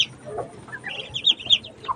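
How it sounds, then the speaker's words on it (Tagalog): An angry mother hen clucks and squawks in short agitated bursts near her newly hatched chicks, fairly close and moderately loud, with a sharp cry at the end. "Nagagalit pa yung inahin nung pinagdadampot ko yung kanyang mga inakay."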